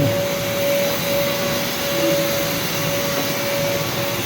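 Continuous roar of a running vacuum cleaner on wheels, close and loud, with a steady tonal whine throughout.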